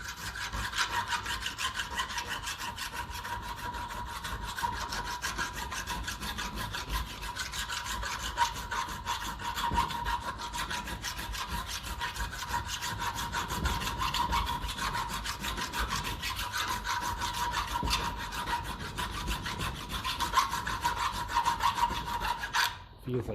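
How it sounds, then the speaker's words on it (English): Metal file rasping at a tight part on a 1954 Ferguson 20 TEF diesel tractor, with steady rapid back-and-forth strokes that scrape continuously at close range, unbroken for over twenty seconds. "just going to go and do a bit of filing in there"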